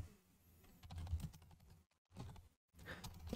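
Close keystrokes on a computer keyboard while entering a command, a fast uneven run of soft taps broken by two brief pauses.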